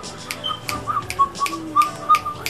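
A person whistles short, wavering high notes, with crisp clicks and ticks scattered between them, close and fairly quiet.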